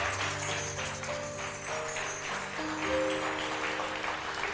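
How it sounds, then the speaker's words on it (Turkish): Steady applause from a television studio audience, a dense wash of clapping that continues throughout with music tones faintly underneath. "İhsan Terzi geliyor alkışlarla sevgili seyirciler."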